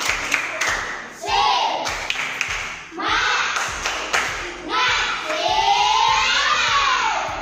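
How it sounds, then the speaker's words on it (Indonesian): A classroom of children performs a patterned spirit clap, with rhythmic bursts of hand claps, taps and thumps that come in several sections. Between the bursts, kids' voices chant and shout loudly close by. "kita tepuk semangat dulu."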